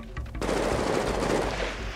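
Rapid automatic gunfire rattles in GTA 5 roleplay as shots are sprayed into bushes, a dense continuous burst that starts abruptly and stays loud throughout.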